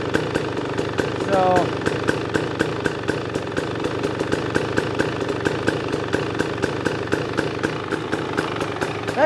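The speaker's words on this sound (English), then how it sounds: "that seems pretty good to me at an idle, especially kind of a low idle like it is" A 2023 KTM 300XC two-stroke dirt bike engine idles low and steady, a close, continuous rhythmic putter with a brief spoken word near the start.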